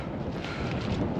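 Cold wind blowing across an exposed Welsh mountainside, a steady broadband roar and buffeting against the microphone that continues unbroken without any speech.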